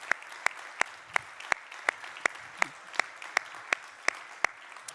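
A church congregation claps to acclaim Jesus, with crisp, evenly spaced claps in a steady unison beat, about three per second, over a quiet background.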